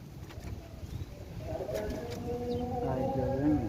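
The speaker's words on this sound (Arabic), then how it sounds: "كأنه طيور اخوان." Pigeons or doves cooing in a Baghdad backyard where chickens are kept, soft warbling calls rising over steady background noise, with voices murmuring faintly underneath.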